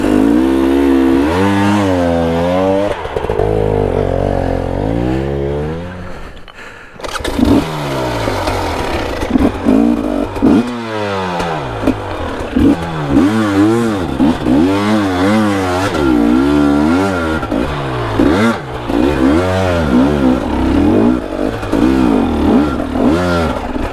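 A dirt motorcycle on rough singletrack in Baja, Mexico revs hard in repeated rising and falling bursts as the clutch is worked, loud and close, with a brief drop in engine noise partway through before the revving resumes.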